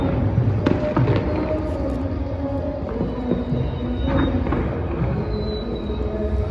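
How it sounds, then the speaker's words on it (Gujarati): Fireworks and firecrackers go off outdoors at night, with scattered pops and crackles at varying distances over a dense, continuous background din. "તો અમે ત્રણેય જણા ફટાકડા ફોટોનો એન્જોય પણ કરી રહ્યા છીએ"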